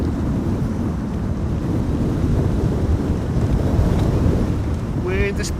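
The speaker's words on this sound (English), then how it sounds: "Wind is picking up." Strong, steady wind roars and buffets the microphone at Amsterdam Schiphol Airport during Storm Amy, a loud continuous rush with no break, and a faint brief tone near the end.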